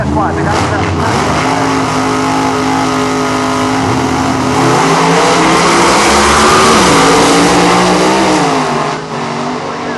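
Drag racing cars, including an alcohol funny car, roar side by side through a loud, sustained engine run in an elimination round, with a commentator talking over the noise throughout.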